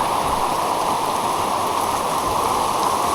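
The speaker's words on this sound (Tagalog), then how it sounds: "Baha na, oh." Floodwater rushes steadily past a house under renovation, a dense, continuous wash of flowing water close by with no breaks or voices.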